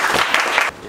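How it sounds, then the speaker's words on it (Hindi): Students in a classroom break into loud applause, a dense wash of close clapping that holds steady for under a second before cutting off abruptly. "एक बार जोरदार ताली बजाइए।"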